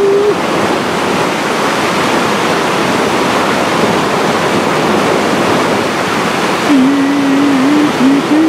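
A waterfall roars close and loud, a steady, unbroken rush of falling water that fills the whole moment with constant broadband noise.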